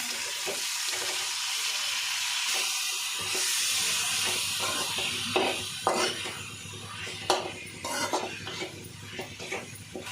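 Chicken pieces with ginger garlic paste and curry leaves fry in a pan for a village-style chicken uppu kari, giving a steady close sizzle and hiss with repeated stirring scrapes and clacks growing more frequent toward the end.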